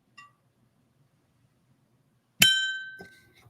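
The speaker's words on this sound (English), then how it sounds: "We're going to try the bell again and see if this softens the blow" A single bright bell strike rings out clearly and decays over about a second, with a softer metallic tap just before it in an otherwise quiet room.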